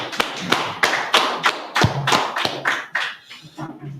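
A group claps in a steady, rhythmic beat at an ISUPK gathering in Fayetteville, North Carolina, about ten sharp, loud claps landing evenly with no voices.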